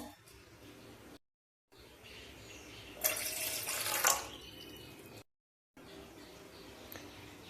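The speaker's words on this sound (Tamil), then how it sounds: "ஒன்றரை கிளாஸ் தண்ணி ஊற்றிக்கிடலாம்" Water pours into a pot for tea in a short burst, splashing briefly before fading, with quiet background noise around it.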